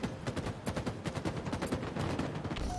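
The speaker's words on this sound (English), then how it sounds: "There's like literally three of them shooting at me" Gunfire from several enemies shooting in the game Halo, rapid overlapping bursts of shots in a dense irregular rhythm, moderately loud throughout with no voices.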